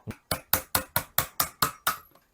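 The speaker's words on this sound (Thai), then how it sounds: "ตอกตัวนี้ออกนะครับอ่าตอกจากฝั่งไหนก็ได้นะครับ" A flat steel punch is hammered against a pin on a UMAREX HK UMP .45 gas airsoft gun, giving eight sharp, close metallic taps in a steady, evenly spaced rhythm with no talking.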